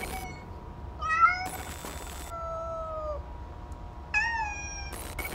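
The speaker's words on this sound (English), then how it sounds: "It looks like this kitten is in big trouble." A kitten in the video game Amanda the Adventurer meows in a few clear, wavering cries with quiet gaps between them, broken by short bursts of harsh noise, in an otherwise still scene.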